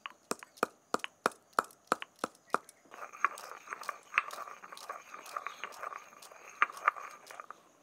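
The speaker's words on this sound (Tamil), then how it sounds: "இதை நல்லா அரைச்சி எடுத்துடலாம்." Cloves are crushed and ground for a herbal ear remedy: a string of sharp crunching knocks comes first, then a softer continuous grinding and scraping with occasional louder crunches.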